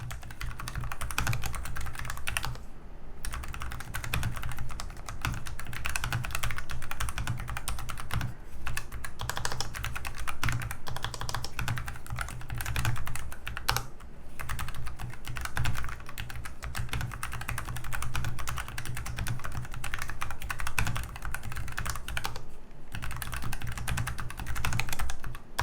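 Steady typing on a Logitech G515 Lightspeed TKL low-profile mechanical keyboard runs throughout, a dense rapid clatter of muted keystrokes with brief pauses, close and clear with no voices.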